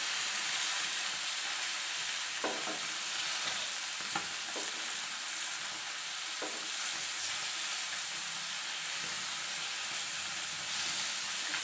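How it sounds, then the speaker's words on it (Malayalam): Threadfin bream, Kerala style, frying in a pan: a steady, dense sizzle and hiss throughout, with a few sharper crackles and pops, close up and with no talking. "മീൻ ആദ്യം വറുത്ത് കോരട്ടെ കേട്ടോ"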